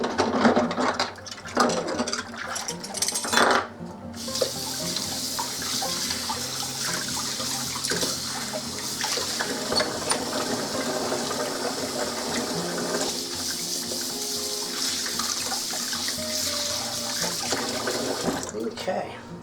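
Water runs steadily into a sink in a basement, with a loud continuous rushing splash that lasts throughout and briefly dips near the start.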